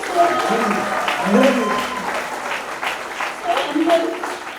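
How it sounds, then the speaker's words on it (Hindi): An audience applauds at a special film screening event, the clapping rising and falling over about four seconds while people talk over it. "तो एक बार तालियां हो जाए।"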